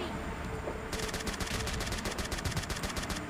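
Rapid automatic gunfire in the PUBG Mobile Lite mobile game, a steady burst of evenly spaced shots starting about a second in and running to the end over a constant background of game sound.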